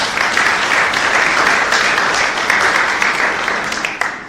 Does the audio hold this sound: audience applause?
yes